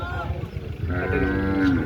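Buffalo lows with a deep, drawn-out moo at a livestock market in Mansa, Punjab, the call swelling and holding close by amid low background voices.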